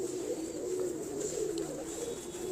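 A Zeera pigeon, crossed from a Dab hen and bred for its red eye, gives a soft, steady low coo that runs on throughout, faint and distant-sounding, with no speech.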